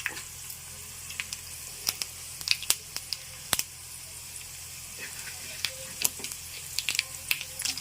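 Mustard seeds and cumin crackle and sizzle in hot oil for a vakkaya pachadi tempering, with scattered sharp pops over a steady low frying hiss, close by.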